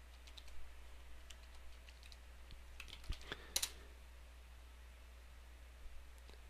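Sparse clicks of someone typing on a computer keyboard at a Windows command line, faint and scattered keystrokes with a small cluster midway, over a low steady hiss, no talking.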